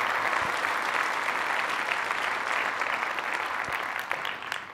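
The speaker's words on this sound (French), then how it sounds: "Et je voudrais que vous les applaudissiez à nouveau." Sustained audience applause fills a New Year greetings ceremony, dense and steady throughout with scattered sharper claps, thinning slightly toward the end.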